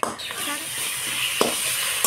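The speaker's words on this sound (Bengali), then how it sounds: "এবার দিয়ে ভালো মতো মশলাটা আমি কষিয়ে নেব" Spices sautéed in a pan while being stirred, with a continuous bright sizzle and occasional clinks and scrapes of the utensil, close up and fairly loud, no talking.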